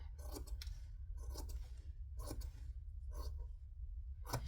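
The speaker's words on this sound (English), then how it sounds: "I'm just going to cut them so that they're even" Several crisp scissor snips cut through zipper tails, spaced irregularly across a quiet room with soft rustling between them.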